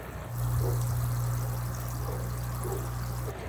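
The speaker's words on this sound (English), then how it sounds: "And there's the bubbles." An air pump cranked to high drives air stones that bubble steadily in a tank of reverse osmosis water, a continuous airy gushing over a low pump hum throughout, with no speech.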